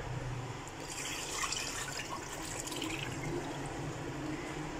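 Boiled Indomie instant noodles being drained, with a steady wash of running and dripping water pouring through at close range for several seconds, no voices.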